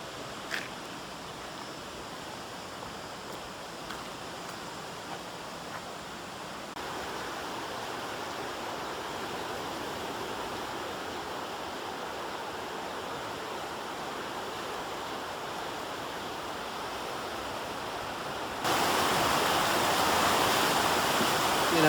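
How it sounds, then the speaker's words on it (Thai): A flash-flooded river rushes beneath the unfinished Lao River bridge in Thailand, a loud, steady roar of churning water that grows even denser near the end, with no voices. "ตอนนี้น้ำป่ามานะครับ"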